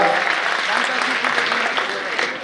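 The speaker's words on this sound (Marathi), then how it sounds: "एकदा जोरदार त्या सगळ्यांसाठी टाळ्या वाजवून त्यांचं कौतुक करूया, अभिनंदन करूया" A crowd claps loudly and steadily at a National Voters' Day ceremony held in the district collector's presence, a dense unbroken patter of many hands close by lasting throughout.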